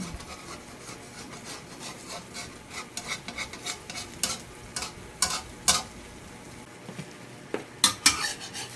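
Tortang talong, an eggplant omelette, frying in a pan beneath a low sizzle, with intermittent scraping and tapping of a utensil against the pan growing sharper toward the end; no voices.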